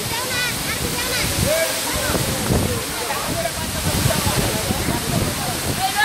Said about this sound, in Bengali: খুবই সুন্দর একটি ঝর্ণা